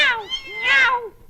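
In a classic Tamil comedy film, a man imitates a cat with two loud, close, drawn-out meows that rise and fall in pitch.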